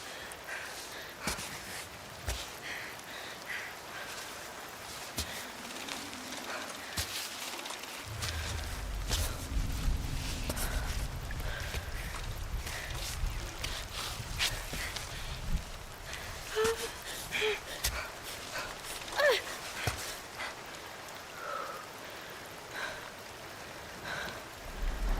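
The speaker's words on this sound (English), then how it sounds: "This is a bad place to be in the rain." Rain falling in the climbing video game Cairn, a soft continuous patter on rock with scattered drips and light scuffing steps of the climber, moderately quiet with a brief low rumble partway through.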